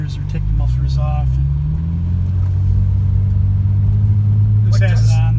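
A 2003 Porsche 911 (996) Turbo with catalytic converters and mufflers still fitted idles and warms up nearby, a steady low exhaust rumble with a slight rise in pitch and brief voices over it.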